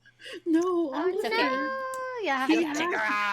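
A pet cat lets out long, drawn-out, wavering meows up close, while people talk over and around the cries.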